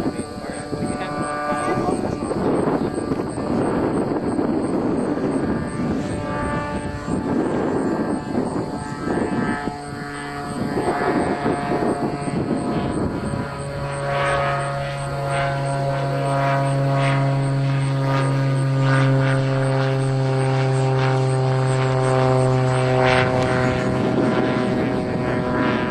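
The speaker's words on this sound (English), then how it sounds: "Got another airplane." Full-size propeller airplane passing over a model aircraft flying field, a sustained engine drone that builds and shifts pitch over about 25 seconds, with wind noise and people talking underneath.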